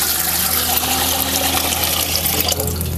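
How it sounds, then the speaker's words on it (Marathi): Water pours steadily into a metal cooking pot set on an outdoor wood-fired stove at a shepherds' camp, a loud, continuous splashing gush with no talk over it. "त्यामध्ये आहे ना आपण पाणी घालूया."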